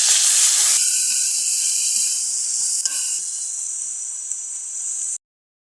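Onion paste with ginger-garlic paste hits hot oil for a Hilsa polao, setting off a loud, steady sizzle and hiss that holds for about five seconds, then cuts off abruptly.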